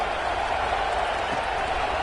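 Football stadium crowd at an NCAA college game after a touchdown, a steady broad roar and murmur filling the whole stretch at moderate level with no distinct cheers.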